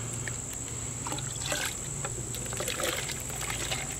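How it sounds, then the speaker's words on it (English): Well-dissolved yarn dye pours into a cool dye vat, giving a steady, close splashing trickle of liquid with a few brief louder surges. "and then pour in our dye, which is very well dissolved"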